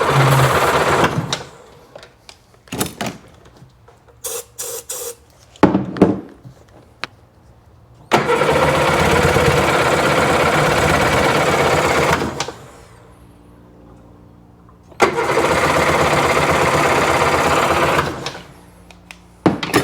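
A Sea-Doo RFI 787 engine that is hard to start is cranked over in several rapid, whirring starter bursts of a few seconds each, loud and close, without catching, with quieter pauses between attempts.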